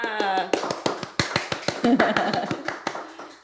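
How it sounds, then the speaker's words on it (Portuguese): Clapping for a female podcast guest being welcomed in a studio, a burst of many quick close claps running throughout, with a voice speaking briefly at the start. "Palmas para ela!"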